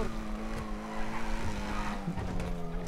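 A car in the video game GTA V flips over during a police chase, giving a continuous engine drone with tyre squeal and scraping tumble noises, moderately loud, with no talk.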